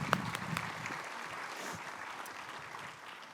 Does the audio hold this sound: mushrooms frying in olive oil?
no